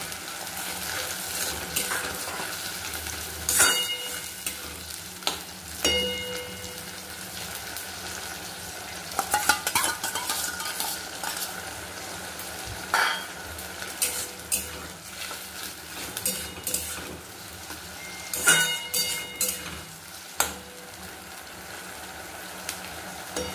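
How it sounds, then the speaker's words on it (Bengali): Tomato paste fries in a pan over browned onions for a chicken curry, with a soft sizzle beneath intermittent spatula scrapes and clinks of utensil against metal, close and fairly quiet. "সেই টমেটো পেস্টটা দিয়ে দিচ্ছি।"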